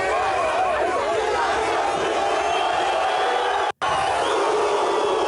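A large crowd in Kenya roars and cheers for IShowSpeed, a dense, loud, continuous wall of shouting voices close around, broken by one brief cut.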